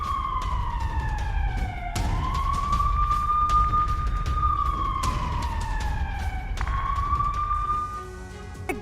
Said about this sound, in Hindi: चेर्निहिव और सुमी में एयर रेड अलर्ट जारी किया गया है।